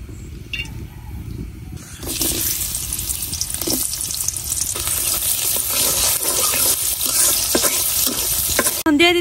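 Oil sizzles in a wok in a village kitchen. A dense, hissing crackle starts abruptly after a quiet opening and continues loudly and steadily until the end.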